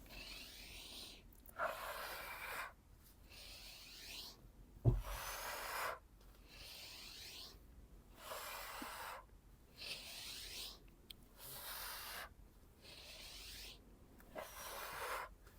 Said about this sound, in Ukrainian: починаємо глибокий вдих і активуємо живіт